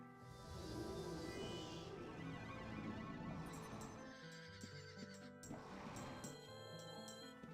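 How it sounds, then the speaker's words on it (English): A horse lets out a long, clear whinny, then a second shorter neigh follows after a brief pause, fairly close and loud, in the video game Ultima Online. "it's kind of weird to hear horses,"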